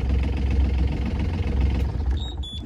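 A Beta Marine boat engine running at a steady idle, a constant low throbbing rumble up close, easing slightly near the end, with no talk.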